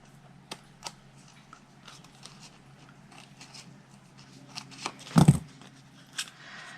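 Scissors snipping the sides of paper dimensional adhesive pieces for a card craft, a few sparse light clicks building to a louder cluster of cuts near the end, close and quiet.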